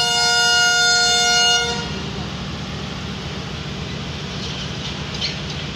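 A train horn sounds loud and close on the Shah Hussain Express in monsoon weather, a long sustained blast that cuts off after about two seconds, leaving rumbling rail noise.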